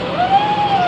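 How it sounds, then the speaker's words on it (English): A truck hauling cars drives past a roadside hitchhiking spot, a brief, loud engine whine with a steady pitched hum sweeping by close. "That was just a truck hauling cars."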